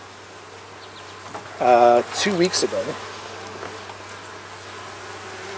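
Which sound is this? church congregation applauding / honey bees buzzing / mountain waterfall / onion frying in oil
honey bees buzzing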